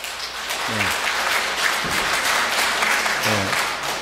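Sustained applause from an indoor audience at a poetry reading, a dense, steady wash of many hands clapping at moderate distance, with faint voices murmuring underneath.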